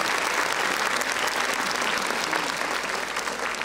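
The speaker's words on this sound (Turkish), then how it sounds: "alkışlar değerlendirme kurulu üyelerimize gelsin" A crowd applauds evaluation board members at a book-reading award ceremony, steady full clapping held at a constant loud level throughout the short stretch.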